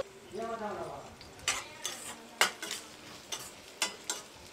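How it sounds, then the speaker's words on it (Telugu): Onions and green chillies frying for mutton keema are stirred in a pan, with soft sizzling and sharp periodic scrapes and clinks of the spoon, close up; a voice speaks briefly at the start. "పచ్చిమిర్చి వేసుకొని బాగా కలుపుకోవాలి"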